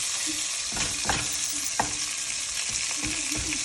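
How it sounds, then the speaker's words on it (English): Onions frying in fat in a pot for beef stew, a dense continuous sizzle with several sharp utensil scrapes and knocks as they are stirred. "fry our onions real nicely"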